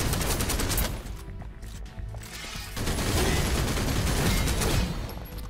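Continuous rapid gunfire in the video game Snowbreak pours out in a loud, dense stream, easing briefly near the middle before resuming at full intensity.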